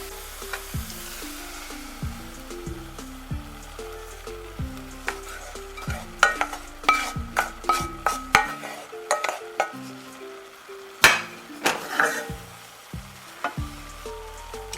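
Raw banana peel and long beans stir-fried with fried onions in a pan, giving a steady close sizzle broken by repeated scraping and tapping strokes of a spatula, with no talk.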